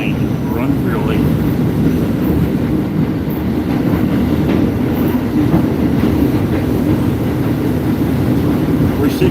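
A Staten Island Railway subway car, number 389, with its HVAC failed, rolls along the rails in a continuous loud rumble, heard from inside with faint voices mixed in.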